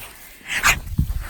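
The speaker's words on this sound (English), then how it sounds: "There goes the dogs going crazy." A dog gives a short, close bark and a whimpering yelp in a dark home setting, loud and brief with no talking over it.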